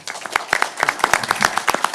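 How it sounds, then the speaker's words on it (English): Scattered applause at a City of Victoria city council meeting, a small group clapping unevenly and fairly close for a couple of seconds during an honoring ceremony. "We can clap."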